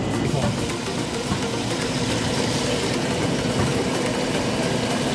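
A mold water channel cleaning machine runs with a steady, dense mechanical drone and rumble, continuous and loud throughout with no pauses.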